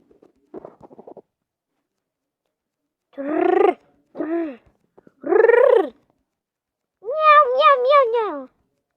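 A cartoonish cat meowing in a video game, several separate meows of varying length after a short rustling sound, the last one a longer wavering cry, each loud and close against silence.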